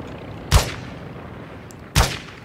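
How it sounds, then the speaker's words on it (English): Gunfire in Call of Duty DMZ, two sharp, loud single shots about 1.5 seconds apart, each with a short ringing tail over low background rumble. "Benz, don't shoot at him."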